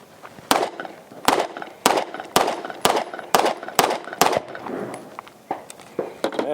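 Tisas 1911 pistol fired at a shooting range, about a dozen sharp, loud shots in a steady rhythm with short gaps, no talking.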